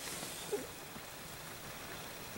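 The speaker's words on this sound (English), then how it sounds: "I had that one open, but the rain was blowing in" Rain falling outside a Jeep with a window rolled partly down, a steady, soft hiss of drops on the vehicle, constant and fairly faint throughout.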